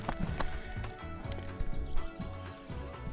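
A pony walks with its hooves clip-clopping in a steady, close rhythm during an outdoor ride alongside a bicycle, with the clatter of the gate and some background noise mixed in.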